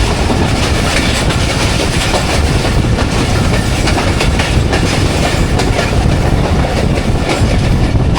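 The Jaffar Express passenger train runs through Sanjani railway station on the Attock to Rawalpindi line, a loud, constant roar of wheels and carriages with rapid clickety-clack rail joints, heard close from on board.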